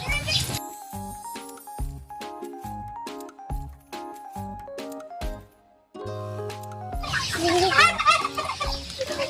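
A turkey gobbles repeatedly in choppy, rapid bursts close by, with other fowl clucking and a person talking briefly toward the end.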